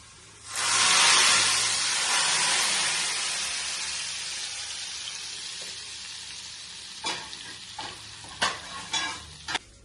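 Hot tempering poured into a gongura stew on a switched-off stove: a loud, sudden sizzling hiss bursts up close and slowly fades, followed by a few sharp scraping stirs of a spoon in the pot.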